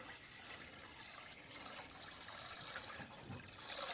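Water pours steadily into a bucket outdoors while a copper-sulfate spray mix for a garden is being prepared, a continuous close splashing fill with no pauses and no talk.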